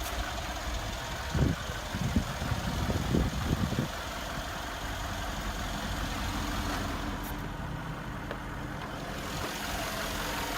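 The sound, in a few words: 2017 Mercedes-AMG G63 5.5 liter V8 bi-turbo engine idling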